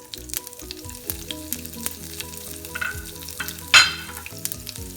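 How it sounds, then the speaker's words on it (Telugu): Cumin, sesame and mustard seeds with thin-sliced green chillies sauté in hot oil in a pan, a steady close crackling sizzle with a sharp burst of spitting near the end, no voices. "అన్నీ వేసి ఒకసారి సాటే చేసుకోవాలి"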